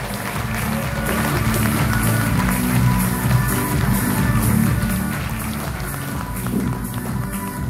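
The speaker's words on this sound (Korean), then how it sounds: "큰 박수 부탁드리겠습니다." Big, dense applause and crowd noise welcome a speaker, Diamond ambassador Lee Min-ji, to the stage for a how-to lecture, sustained and loud throughout with a steady wash of clapping and murmur.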